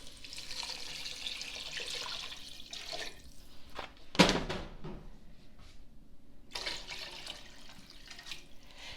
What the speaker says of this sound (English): now you're ready to add your chicken water and salt, pepper